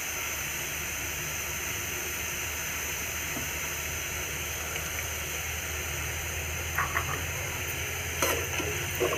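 Rice in a hot pan with carrot pieces added, a steady loud hiss of frying with a few scraping stir sounds near the end, no voices.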